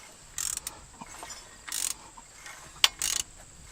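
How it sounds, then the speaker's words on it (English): Socket wrench with a 15/16 socket turning over the engine of an old, long-abandoned Ford Bronco, giving a few short quiet ratcheting bursts separated by pauses, close and faint with no talk. "Get a 15/16 socket on there and see if she spins."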